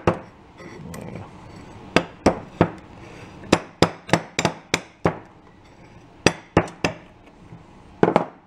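A plastic hammer taps a part into place while fitting a real engine into an amusement park go-kart. About fourteen sharp, close knocks come in irregular bursts over a low workshop hum, with no talking.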